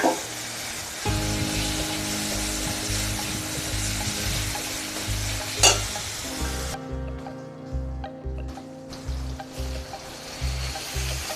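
Spices fried and stirred in a pan for a raw banana peel mash, with a steady dense sizzle and scraping strokes throughout, close and loud, plus a low mechanical hum beneath and no speech.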